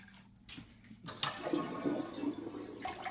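A toilet flushes in a vacant house, a loud close rush of water that swells and churns after a brief click, with no voices.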